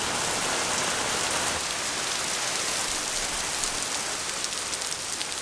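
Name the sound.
rain falling outside on a dreary day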